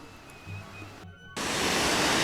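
Routeburn Falls waterfall on the Routeburn Track in New Zealand roars as a loud, steady broadband rush that jumps up sharply after a brief quieter moment, with no talk over it.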